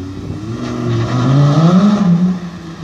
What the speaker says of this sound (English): the owner of the Sharnbrook Hotel and his yellow Lamborghini Gallardo Spider, just leaving